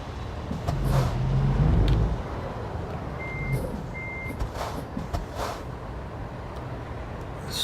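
Busy road traffic with a heavy truck rumbling close by, then a reversing truck's two evenly spaced warning beeps, and more vehicles passing in a continuous wash of noise.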